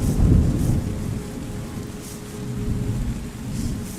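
Steady rain with low rolling thunder in a video game, the rumble swelling loudest near the start and easing to a continuous downpour hiss, with faint soft music beneath.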